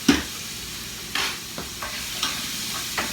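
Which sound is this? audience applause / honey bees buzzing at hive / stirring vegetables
stirring vegetables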